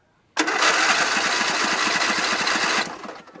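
A small engine roars on abruptly and runs loud and rough with an uneven, sputtering pulse for a few seconds, then drops off as if about to choke; no one talks.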